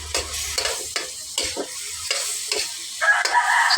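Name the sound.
stir-frying pork in a pan, sizzling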